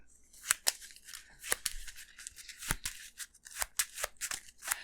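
Cards for the Arkham Horror card game being handled and shuffled, with a series of sharp papery snaps and riffling bursts at an irregular rhythm, close by and fairly quiet with no talking.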